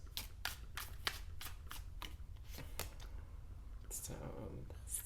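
Tarot cards are shuffled close up in a series of quick riffling bursts, with a softer handling rustle toward the end and a quiet voice faintly underneath.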